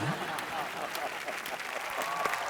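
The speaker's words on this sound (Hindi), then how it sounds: "तो खड़े होके ताली कौन तुम्हारा बाप बजाएगा?" Studio audience at a comedy entertainment show applauding, a steady dense wash of clapping at moderate level throughout, with faint voices mixed underneath.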